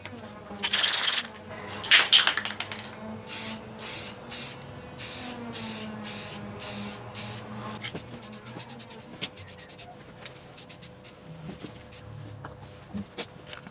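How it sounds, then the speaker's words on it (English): Rust-Oleum flat black spray paint hisses from an aerosol can in several short and longer bursts, close up, with rattling and handling noises and some talk between the sprays. "Alright, so a bit of Rust-Oleum. I'm using flat black."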